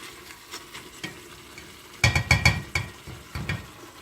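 Onions cooking in a pot for vermicelli soup, with a quiet simmer and then a cluster of clinking spoon strokes and soft sizzling bursts midway, fading back to a low bubbling.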